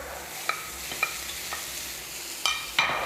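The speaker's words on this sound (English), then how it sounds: "Now I come back to cook my liver" Liver fries in a non-stick pan with a steady sizzle, broken by a few sharp clicks and scrapes of a utensil stirring nearby, no voices.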